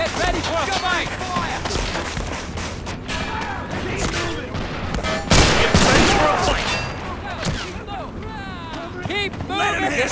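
Bursts of rifle and machine-gun fire aimed at infantry in the Men of War Assault Squad 2 war game, with a dense fusillade of overlapping shots, a heavier blast midway, and soldiers' voices calling out amid the battle.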